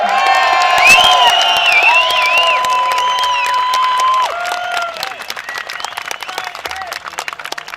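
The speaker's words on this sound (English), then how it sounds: "we're going to give an enormous round of applause for Mr." Crowd at an outdoor Bilderberg protest in Watford, 2013, claps and cheers loudly with whistles and whoops, then the applause thins into scattered claps.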